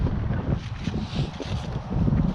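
Strong gusty wind, around 40 gusts, buffets the microphone at an abandoned farm, a loud continuous low roar that rises and falls with no voices.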